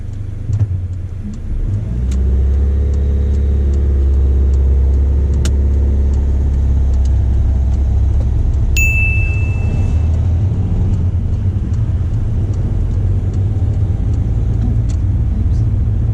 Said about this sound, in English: Drive on again when you're ready